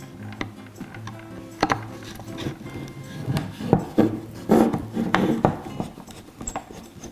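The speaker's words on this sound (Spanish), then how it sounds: "Le quitamos los tornillos. Fijaros los tornillos que tiene," Very old screws are worked loose from an antique taxidermy mount being restored. A screwdriver twists and ratchets in irregular creaks and clicks, with occasional knocks against the wooden base, close and fairly clear.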